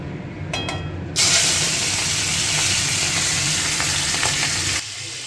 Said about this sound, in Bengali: চিংড়ি মাছটা আগে ভেজে নেবো দেখো অল্প করে তেল দিয়েছি